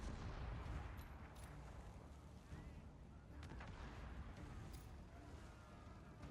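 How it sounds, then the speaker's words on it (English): Enemy ships in the pirate game Corsair Cove fire a faint, scattered barrage of cannon shots. A few separate booms rise out of a low, rumbling noise bed. No voices are heard. "And they are going to shoot at us as well"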